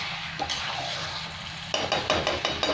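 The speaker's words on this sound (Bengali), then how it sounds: "কুকারের মধ্যে ভালো করে কষতে পারি না বলে ওই জন্য আমি কড়ার মধ্যেই কষে দিই চিকেনটা" Chicken stir-fried in a kadai for kosha, with a steady sizzle and scraping of a spatula against the metal pan and several clattering strokes near the end.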